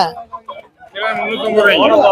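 Harsh, rapid guinea fowl calls rise and continue loudly after a brief pause, preceded by a few scattered clucks, at the Kunnathur market near Tiruppur.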